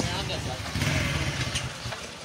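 A new motorcycle's engine runs steadily nearby at moderate volume, with voices talking over the mechanical drone.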